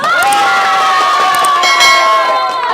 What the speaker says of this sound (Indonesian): Yang terakhir kita kasih aplaus untuk adik-adik dari kelompok menulis.